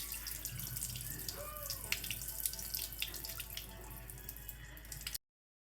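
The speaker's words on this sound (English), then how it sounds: "and then drain that water." Soaking water from basmati rice draining into a sink, a continuous faint running and splashing with a brief gurgle, heard alone before a sudden cut to silence.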